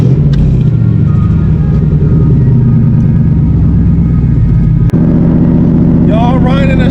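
A 1965 Shelby Cobra 427 replica's engine rumbles loud and steady from inside the car during a ride, with a voice talking over the constant drone.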